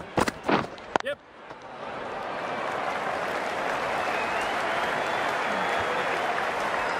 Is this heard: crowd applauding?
yes